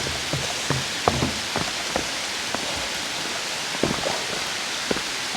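Steady rain falls on a mountain hiking trail at Gyeryongsan during the rainy season, a dense close hiss with scattered louder drops and taps pattering throughout, no voices.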